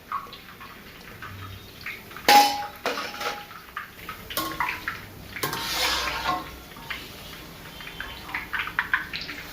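Sweet boondi is scooped into a metal vessel, with sharp metallic clanks and scrapes of utensils at irregular intervals over a soft background hiss, the loudest clatter coming early on.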